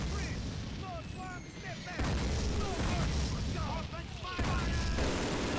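Call of Duty gunfire, steady booming shots and rattling bursts under a constant low battlefield roar, with whistling and chirping effects and the volume surging at two points.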